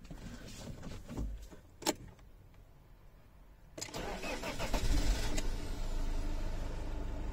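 An Iveco ice cream delivery van engine, 169,000 km, cranks, then after a brief lull it catches and settles into a steady, smooth idle.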